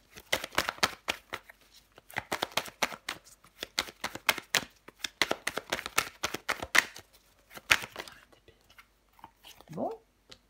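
Tarot cards shuffled, slapped down and handled on a table during a reading, a dense run of crisp close flicks and taps with brief pauses, a soft murmured voice passing now and then.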